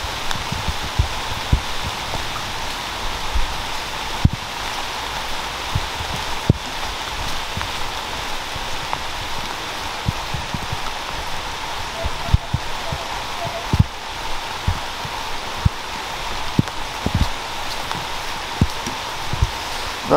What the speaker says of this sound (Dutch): Het is dan ook een hele dag aan het regenen.